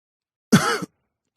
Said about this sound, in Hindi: वे खांसे।